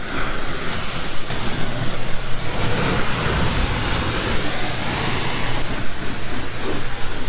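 G-Technic citrus foam cleaner sprayed onto a car during a detailing wash, a loud continuous hissing spray with steady mechanical rumble underneath, close and unbroken.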